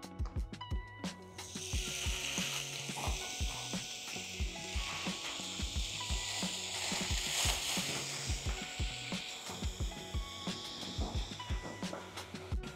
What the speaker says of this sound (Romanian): Punem cotletul pe tigaia încinsă.